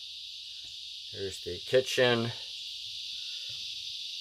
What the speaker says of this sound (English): That sound you're hearing out there, that's actually cicadas. I live in the woods, so it's crazy cicadas.